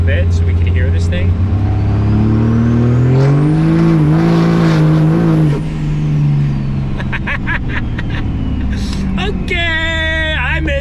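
A 1000HP Cummins diesel truck driven hard, engine droning and climbing in pitch under load with a turbo whine, then easing off, heard from inside the cab with a voice talking partway through.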